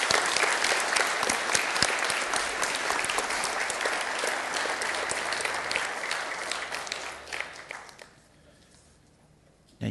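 Church congregation applauding at a Pentecost Sunday confirmation service, dense sustained clapping filling the room for about eight seconds before fading out to near silence.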